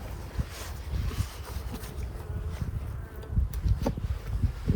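Honey bees buzz around an open hive during a split, a continuous low droning hum with individual insects flying close past now and then, fairly quiet overall.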